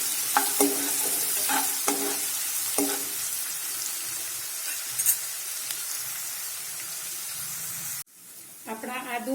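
Ginger, chili and garlic sauté in a pan over a low gas flame, giving a steady sizzle with a few stirring clatters, then a short louder burst of frying near the end.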